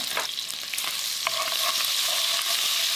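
Butter and olive oil sizzle in a pan over rendering, browning fat for a bolognese sauce, giving a steady close frying hiss with a few light scrapes and clicks from stirring.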